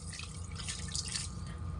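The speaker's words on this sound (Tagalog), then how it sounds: "Lagyan lang natin ng isang basong tubig" A glass of water is poured steadily into a cooking pot for a couple of seconds, a continuous splashing pour with no voices.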